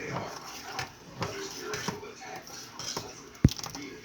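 Spoon stirring Jamaican oatmeal porridge in a cooking pot, with scattered light clinks and scrapes at an irregular pace and one sharper knock near the end, all fairly faint.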